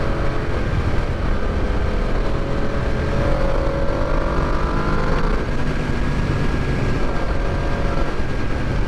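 A Yamaha VMAX muscle bike roaring steadily at speed, its engine drone loud and continuous with heavy wind rush throughout.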